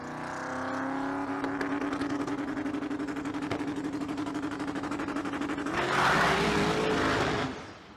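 A drag-racing street car launches down the strip at a Las Vegas drag event, a loud sustained engine roar with rapid rattling pulses that holds steady and then swells briefly near the end before dropping away.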